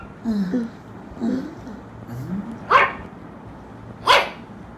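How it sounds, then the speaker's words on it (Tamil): A dog at home barks several times, the first few lower and muffled, then two sharp, loud barks near the end over a quiet indoor background. "டேய் என்னடா புதுசா வீட்டுல நாய் சவுண்ட்லாம் கேக்குது."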